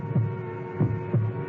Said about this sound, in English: It's my heart beating.